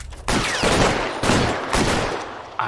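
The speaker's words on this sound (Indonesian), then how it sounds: "Anjay shotgun." Shotgun blasts in the video game L.A. Noire: three or four loud booming shots spaced roughly half a second apart, each with a sharp attack and ringing tail, no talking.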